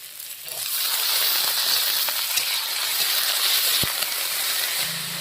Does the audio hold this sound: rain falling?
no